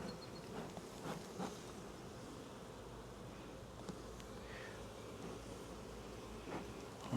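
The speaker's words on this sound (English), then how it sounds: "That's some awesome bee coverage on these frames." A dense, steady hum of honeybees crowding the frames of a strengthening hive box, close and continuous, with faint rustles and no talk.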